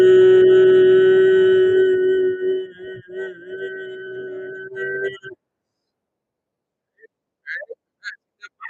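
A voice holds a sustained, vibrating brain hum during a mindfulness exercise, steady and buzzing for about five seconds before breaking off into brief quiet breathy sounds.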